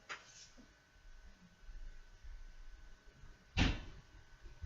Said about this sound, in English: Oh, slamming a door.